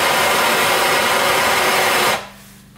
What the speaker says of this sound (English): So you'll need one of these torches. Just a simple torch, and you just gotta heat it up.